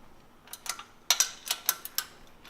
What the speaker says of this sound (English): So I'm going to loosen those bolts. I have 2 1/2-inch wrenches.